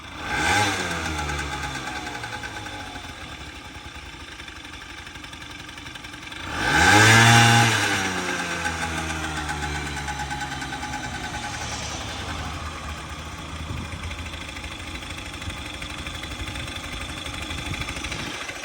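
A small Suzuki ZZ Inch Up Sport scooter engine idles steadily and close, with one short rev rising and falling midway before it settles back to an even idle.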